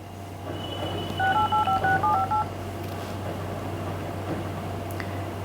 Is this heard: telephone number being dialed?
yes